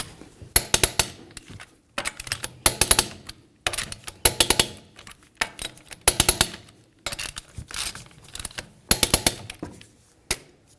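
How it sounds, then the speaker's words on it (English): Lug nuts on a 2013-2015 Chevrolet Malibu wheel being tightened with a torque wrench in a crisscross pattern, heard as repeated bursts of sharp rapid ratcheting clicks separated by short pauses, close and fairly quiet. "we'll be torquing these in a crisscross manner"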